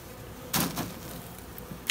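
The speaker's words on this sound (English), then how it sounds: "let the bees work on it a little bit" Honeybees buzz around broken honeycomb dumped out for them to work, a constant close drone with louder bursts as individual bees pass near.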